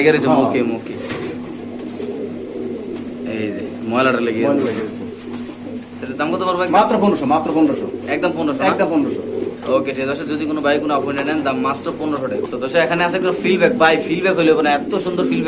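Pigeons at a pigeon shop coo in repeated soft, throaty rolls close by, while people talk over them throughout.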